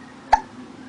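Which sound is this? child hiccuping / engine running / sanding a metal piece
child hiccuping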